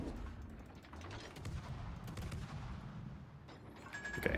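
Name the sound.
ship guns firing in World of Warships video game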